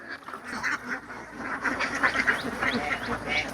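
Many ducks quacking together on a duck farm by a fish pond in Laos, a dense overlapping chorus of nasal calls at close range, with a voice speaking faintly beneath.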